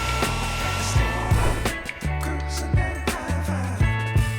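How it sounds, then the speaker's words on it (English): A hair dryer on a cool setting blows steadily and loudly throughout on jumbo afro twist boho braids, its whirring pitch wavering slightly as it moves, with occasional clicks and handling sounds. "You may use a blow dryer on a cool setting to dry the hair."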